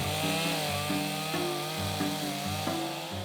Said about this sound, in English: I've switched to my smaller chainsaw, which has a thinner tip for adding more detail